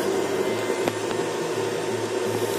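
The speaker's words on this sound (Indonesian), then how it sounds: "sementara yang ini kipasnya kenceng juga, tapi kalah kenceng sama yang merah." A modified electric fan runs fast with a steady, loud whirring drone and a constant motor hum, plus a couple of faint clicks, heard alone without any talk.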